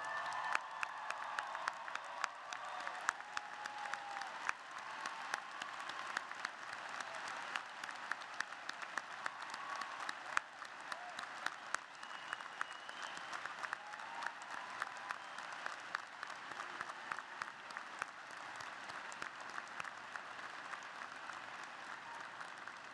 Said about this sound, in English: Please rise and join me in a round of applause for your teachers and mentors